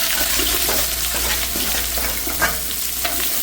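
Onions frying in a pan for Telangana-style bagara rice, a dense continuous sizzle with scraping stirring strokes and small clinks over it, close and moderately loud.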